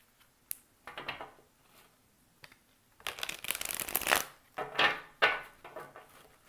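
A deck of tarot cards is shuffled by hand close up: a few soft taps, then a run of quick riffling bursts, each rapid and crisp, with quiet gaps between.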